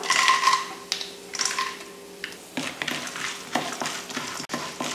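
Peanuts and chana dal fry and get stirred in a hot pan for a peanut rice lunch box recipe, with steady sizzling broken by scraping, clattering spoon strokes, close and without talk.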